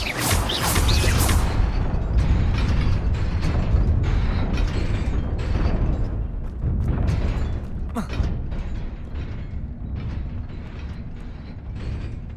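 A fire spell cast in the Hogwarts Legacy video game erupts in a loud whooshing burst at the start, followed by continuous rumbling, creaking mechanical game sounds.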